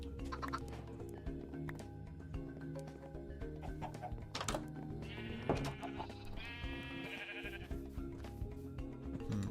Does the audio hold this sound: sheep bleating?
yes